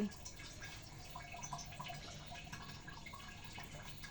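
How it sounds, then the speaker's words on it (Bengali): Rice is washed by hand in water for a chicken biryani, a faint, steady swishing and dripping of water without talk. "এখন চালগুলো ধুয়ে নিতেছি পরিষ্কার করে"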